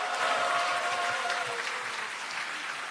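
Applause from the audience at the Democratic Party's 70th anniversary ceremony follows a speech, a broad, even wall of clapping hands, steady and sustained without voices on top.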